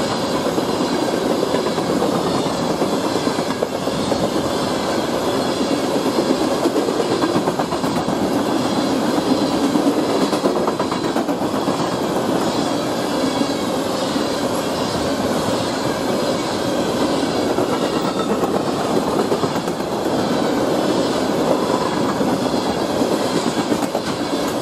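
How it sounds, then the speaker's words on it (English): An ethanol freight train rolls past in Chesterton, Indiana, a loud, continuous rumble of wheels clacking and squealing on the rails that stays steady and close throughout. "This is our third train of the morning."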